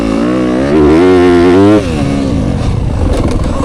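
A Yamaha YZ250FX dirt bike engine revs hard in third gear, its loud buzzing note rising and falling through one strong surge before it drops back to a rougher, lower idle-like chug.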